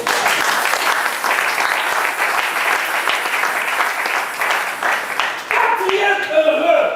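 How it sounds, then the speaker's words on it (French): A church congregation at a Sunday service breaks into sustained loud applause, dense clapping from many hands throughout, with voices mixed in and some shouting toward the end. "Il acclame le Seigneur."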